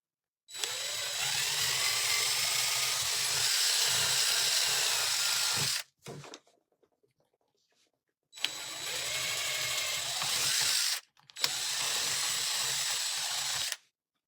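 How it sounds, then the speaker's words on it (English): A power drill whirs loudly and steadily for several seconds, stops, then runs again in two more long bursts with brief pauses between. "So let me drill my holes"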